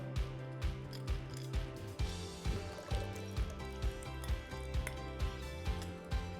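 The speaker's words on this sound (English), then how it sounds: "drain a little bit and put inside ice water." Cooked rice is drained from a pot into ice water, giving a steady pattern of dripping and small liquid plops repeating at a regular pace, close and fairly quiet.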